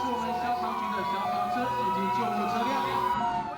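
Ambulance siren during a Kaohsiung wartime emergency drill, with steady, repeating wailing tones throughout under a spoken news narration.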